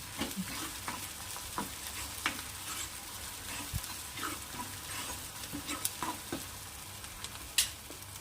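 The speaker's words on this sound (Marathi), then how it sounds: "हळद ॲड करू अर्धा चमच मिक्स करायचं छान" Turmeric and spices stirred and fried in hot oil for a village-style black chana masala give a steady near sizzle, broken by scraping spoon strokes and small clinks of the spatula against the pan.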